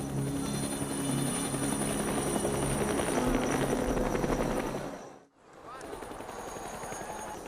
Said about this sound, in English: an helicopter started flying